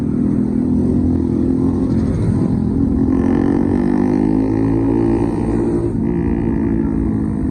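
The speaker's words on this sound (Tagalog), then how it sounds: "Napakasarap mag-rides with pagka naka Mio Sporty ka." A Yamaha Mio Sporty motor scooter engine runs loud and close, its revs rising and falling in steady surges with a low, buzzing drone throughout.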